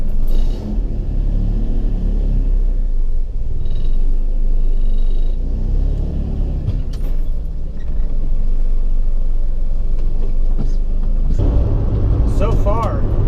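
A 1990 Honda Civic EF hatchback fitted with coilover suspension drives down a road, its engine and tyre rumble steady and close from inside the cabin, with occasional thumps from bumps and voices talking over it near the end.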